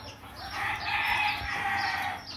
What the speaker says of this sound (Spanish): mita es la gallina que nos regaló Caña Raza, gallina amarilla.